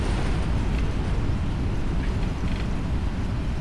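A PMDG 777 in a flight simulator runs idle reverse thrust after touchdown on the runway, a loud, steady broadband roar that holds evenly throughout with no talk.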